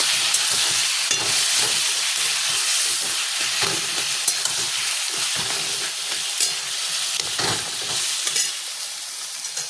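Taro leaves sizzle steadily in a hot pan, a dense crackling hiss with faint scrapes of stirring throughout, close and continuous.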